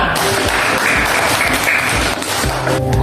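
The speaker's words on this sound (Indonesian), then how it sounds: "Tepuk tangan buat kita semua." Dense, steady clapping from a group of schoolchildren in a class, loud and close, lasting a few seconds without pause.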